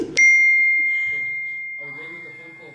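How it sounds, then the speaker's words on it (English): A phone rings once with a sharp chime that rings on as a long fading tone through a live stream, and voices talk quietly in the background as it dies away. "Yeah, phone call, guys."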